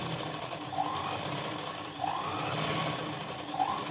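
A sewing machine stitches a blouse seam with a steady, fast, close mechanical hum and rattle, running continuously for the whole stretch without any talking.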